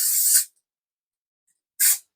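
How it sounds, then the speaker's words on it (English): Cooking spray hisses from an aerosol can into a measuring cup in a home kitchen while baking a chocolate pecan pie: one longer spray, a pause of silence, then a second short burst. "I'm going to spray this with a little bit of cooking spray"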